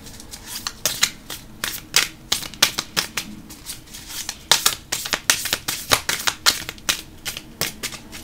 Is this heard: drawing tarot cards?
yes